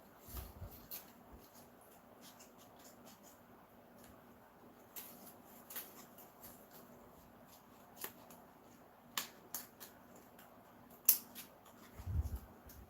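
Rough cutting of craft material for a Dollar Tree Christmas tag sign, with faint, scattered snips and rustling scrapes spread across a quiet room, mostly soft with a few sharper clicks.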